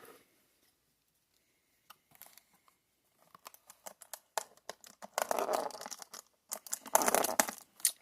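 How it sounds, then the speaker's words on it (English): Foil booster packs of Star Wars Unlimited Shadows of the Galaxy cards being torn open: near quiet at first, then close, bursty ripping and crinkling that grows busier and louder toward the end. "I'm going to do a box opening of Star Wars Unlimited Shadows of the Galaxy."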